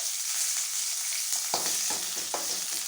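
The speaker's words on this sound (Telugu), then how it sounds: "పచ్చిమిర్చిని వేయించుకోవాలి." Green chillies fry in hot oil for a mint, coriander and tomato chutney, giving a continuous close hiss and sizzle with a few soft scraping stirs near the end.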